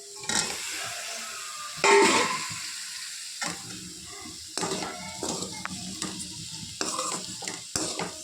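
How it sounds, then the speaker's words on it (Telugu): Precooked drumsticks dropped into a frying pan and stirred with carrots, a loud sizzle on landing followed by repeated scraping and clattering stirring strokes over steady frying, close and clear. "ఇప్పుడు మనము మునక్కాడని వేసుకుందాం"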